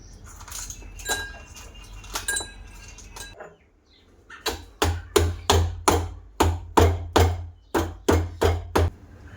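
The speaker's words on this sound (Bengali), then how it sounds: "মিছরিগুলো আমি হামানদিস্তাতে ফেলে গুঁড়ো করে নেব।" Rock sugar crushed in a metal mortar and pestle, a few scattered clinks at first, then a steady run of sharp metallic pounding strikes at a regular beat, close and loud.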